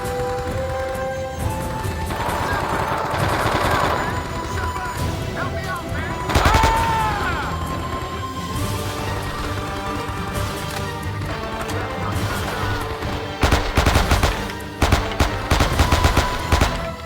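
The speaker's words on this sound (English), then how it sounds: "Last mag and the Thompson are gonna make it count" A Thompson submachine gun fires in the Vietnam War shooter Men of Valor. Bursts of rapid gunfire crackle over a dense battle din, with a loud volley near the middle and heavier bursts toward the end.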